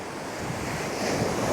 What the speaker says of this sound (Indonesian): kondisi dari pantai Batu Bolong